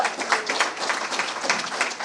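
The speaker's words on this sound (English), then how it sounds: "Big round of applause for Tanner." A campaign event audience for an Ohio Statehouse candidate claps steadily, a dense, even applause that sounds fairly close and continues without a break through the whole short stretch.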